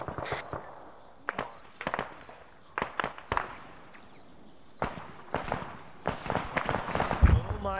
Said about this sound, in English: Oh my god, another rocket.